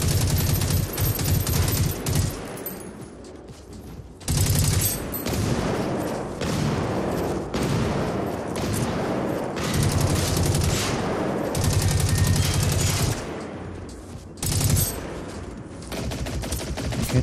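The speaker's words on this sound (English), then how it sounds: "Oh, that's just flat out an AK-47." AK-47 fire in a video game, rapid bursts of loud automatic gunfire repeating in clusters with short pauses between them, dense and close throughout.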